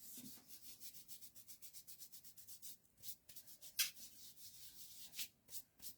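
Rubbing to remove glue from a decorated altered-art postcard, a quick series of dry scrubbing strokes repeated steadily and close, fairly soft, with no talk.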